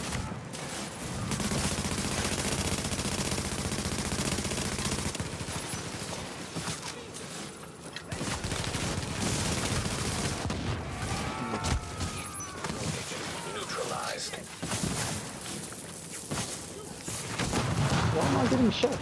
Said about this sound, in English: Why am I getting shot?